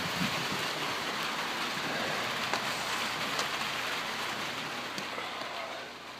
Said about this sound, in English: Okay, rain's coming down.